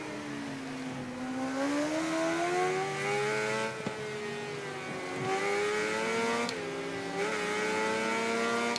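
A racing motorcycle in the video game Ride 3 accelerates hard out of a chicane, its engine whine climbing steadily in pitch through gear changes, loud and continuous with other bikes' engines mixed behind.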